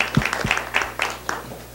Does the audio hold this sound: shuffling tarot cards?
no